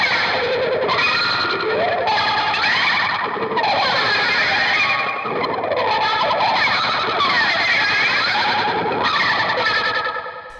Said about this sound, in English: he combines it with like slapback echo and wah-wah pedal and maybe a flanger